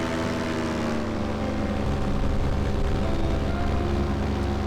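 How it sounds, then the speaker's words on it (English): A propeller airplane flies overhead above Oxford, heard as a steady, loud engine drone that holds constant throughout with no voices. "The plane above me."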